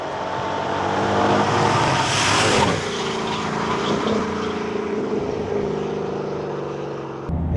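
A Ford Mustang GT/CS engine hums low and steady while cruising at 1200 rpm in sixth gear at about 70, a continuous muffled drone with road noise in the cabin.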